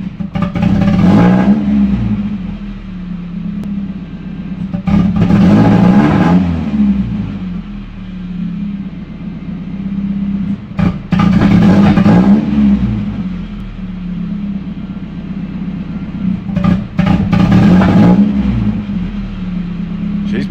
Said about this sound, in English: Let me try to give it gas.